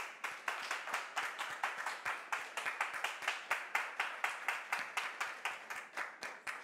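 Rhythmic, evenly spaced clapping from a studio audience on a French talk show set as a guest is welcomed, crisp beats arriving in a steady unison pulse with no talking.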